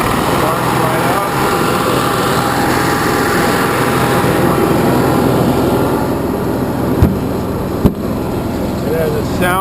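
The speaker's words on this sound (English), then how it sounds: "Nice generator." A motorhome generator housed in a sound- and vibration-proofed enclosure runs with a steady, even engine hum throughout, with a couple of sharp knocks near the end.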